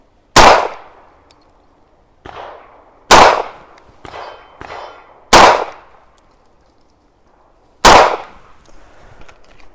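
Four sharp pistol shots from a Smith & Wesson M&P 2.0 Compact fired at 15 yards, spaced irregularly about two seconds apart, each a loud close crack with a short ringing decay, plus fainter echoing reports from nearby shooters between them.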